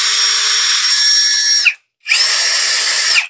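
Cordless battery drill without hammer function, running loud and close in two bursts of steady high whine, with a brief silent pause between them.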